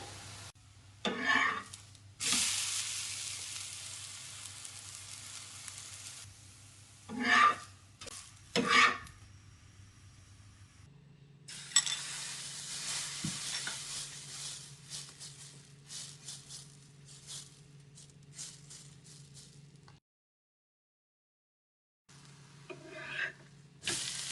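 Food cooks over a low flame in an open pan, with a quiet, soft sizzle and bursts of stirring and scraping against the pan.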